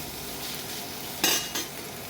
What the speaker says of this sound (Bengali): এইভাবে আমি আস্তে আস্তে দম দিয়ে ভেজে নেব